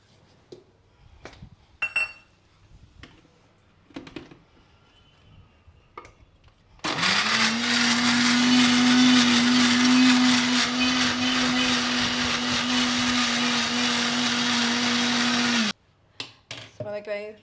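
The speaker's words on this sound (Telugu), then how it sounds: "ఇప్పుడు ఆనియన్స్ని మనం మిక్సీ గ్రైండర్లో" Onions being ground to a paste in a mixer grinder: after scattered clicks and handling noises, the motor roars on loud and steady for about nine seconds, then cuts off, followed by more clatter.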